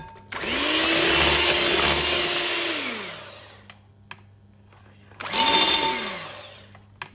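An electric mixer beats fruit cake batter on slow speed as dry ingredients are added: a close, steady motor whir for about three seconds, a pause, then a second shorter burst.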